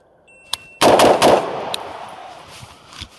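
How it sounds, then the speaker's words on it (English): Three rapid rifle shots cracking out in under a second, loud and close, with a faint earlier pop and a lingering outdoor range echo trailing off afterward. "So 3 shots in under a second, all hits right there."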